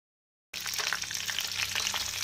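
Black cumin and green chili frying in hot oil, a sudden onset of close, bright crackling sizzle that holds steady with small spattering pops until the end, no voices.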